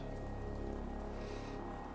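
Rain falling steadily in the video game Ender Lilies, a continuous dense patter that stays even and fairly loud throughout, with no voices over it.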